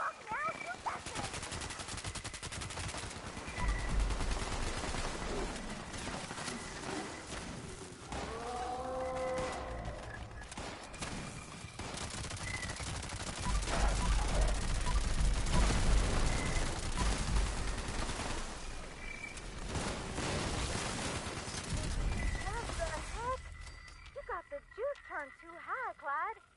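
Rapid automatic gunfire in a monster-hunting video game, sustained bursts cracking over game music and creature noises, with characters talking in places.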